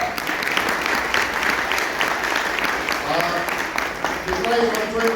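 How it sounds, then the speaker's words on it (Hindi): Audience applause at a motivational life-story talk, a steady wash of clapping from a crowd that keeps going throughout, with some voices faintly mixed in underneath. "एक जोरदार तालियां शुभ्रा के लिए"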